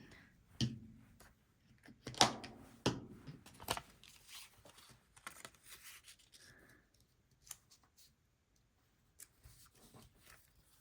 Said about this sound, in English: Oh, also crumple it. I'll do my best to crumple it.